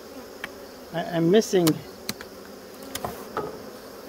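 Honeybees buzzing around an open hive during an inspection, a steady close insect drone with brief louder swells as bees pass near, and a few short spoken words over it.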